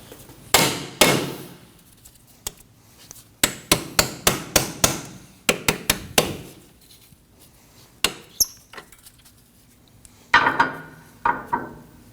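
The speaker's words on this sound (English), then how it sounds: "I'm just going to use a hammer." Sharp metallic hammer taps on a cam bolt while replacing front strut mounts on a 2003-2006 Subaru Baja, in uneven bursts, some single and some in quick runs of several blows, close and loud with quiet gaps between.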